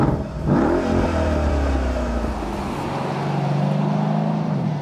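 A 2016 Mercedes-Benz SL AMG 63 sports convertible revs its engine from inside the car, with a loud rising roar and then a sustained deep drone that slowly settles, with no talk.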